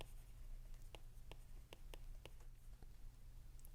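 Pen or pencil jotting math working by hand on paper, faint scattered scratches and taps close by under a steady low hum, no voices.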